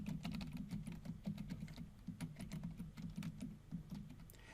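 Computer keyboard keys tapped in quick irregular bursts while entering a password on a Red Hat Linux system, soft clicks over a steady low hum, no voices.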